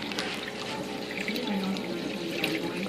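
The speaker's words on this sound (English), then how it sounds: "Show you the waves on the top of the water." Water sloshes and splashes continuously at the surface of an aquarium, with waves driven by a WP25 wave maker running at about half intensity, a steady close wash of liquid noise.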